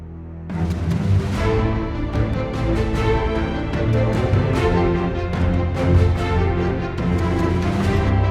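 A full string ensemble from the Berlin Strings sample library plays soft sustained, layered chords with separate percussion hits underneath, steady and moderately loud throughout.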